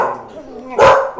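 A Tibetan Mastiff at a large-breed dog kennel gives one loud, deep bark near the end, following someone speaking close by.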